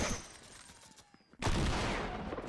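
Automatic gunfire from a gun in Fortnite Creative on a Nuketown map, a rapid rattling stream of shots that drops out briefly, then resumes as a loud, sustained burst.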